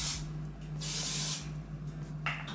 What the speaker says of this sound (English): Now I'm just gonna go with a little hairspray.